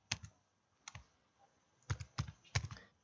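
Close computer keyboard typing of a file name in short bursts: a couple of isolated keystrokes, then a quick run of several sharp clicks, no voices.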